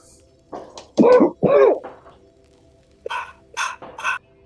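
A dog barks during fireworks, two loud close barks followed after a pause by a quicker burst of three sharper yips, with only faint background hum between them.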